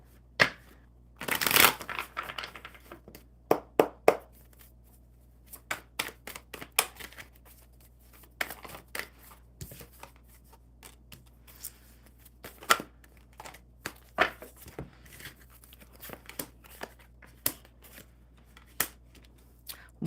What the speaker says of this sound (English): One more good shuffle for Sandy.